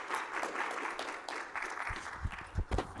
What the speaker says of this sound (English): So if you guys could give a round of applause